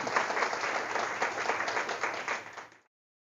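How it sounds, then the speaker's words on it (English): An audience claps in a burst of applause lasting a few seconds, then it fades quickly to silence. "Please give a round of applause again."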